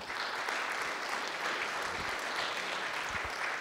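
Sustained applause from a conference audience at a medical equipment expo in Las Vegas, honoring a panel. A steady, even wash of many hands clapping without a break, moderately distant, with no voices over it.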